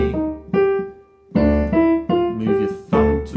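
Piano playing a short phrase from Grieg's In the Hall of the Mountain King, several clear struck notes and chords in a halting stop-start rhythm, close and alone.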